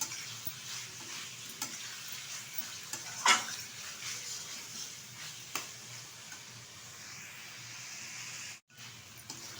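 Dried lote fish sautés with spices in a pan as a quiet, continuous low sizzle. Occasional faint scrapes and clicks from stirring come through, with one sharper clatter near the middle. No one speaks.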